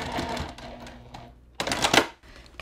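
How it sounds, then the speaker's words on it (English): A sewing machine stitches back over earlier stitches and then backstitches on a fabric book sleeve. Quick mechanical rattling runs through the first part, and a louder burst follows about a second later. "I'm going to just stitch right over the top of those original stitches and then do a back stitch."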